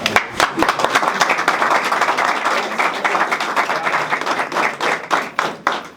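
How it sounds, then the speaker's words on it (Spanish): Audience clapping at a gathering on an Afro-Colombian agenda, a close, lively burst of many hands with distinct individual claps, strong at first and thinning and becoming more scattered toward the end. "Dale un aplauso primero."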